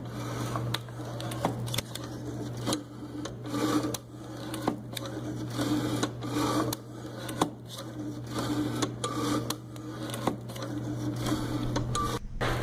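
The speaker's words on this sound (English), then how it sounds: "Next, the user begins to move the blade up and down. The carriage advances automatically so that the curls are created during each motion." Stamen-making machine with its blade working up and down while the carriage advances automatically, giving a steady run of rhythmic mechanical clicks and scraping strokes over a constant low motor hum.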